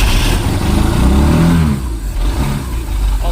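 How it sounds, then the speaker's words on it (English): A used boat's outboard engine, running on fresh fuel with a slightly leaking gasket, revs loudly under throttle, surging for over a second before easing and picking back up close to the listener. "We're going to give her some throttle."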